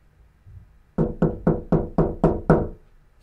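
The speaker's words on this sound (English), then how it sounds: "Hold on, what is at my door?" Seven sharp, evenly spaced knocks on a door land loud and close after a faint softer tap, each one crisp with a short resonant decay, in an otherwise quiet room.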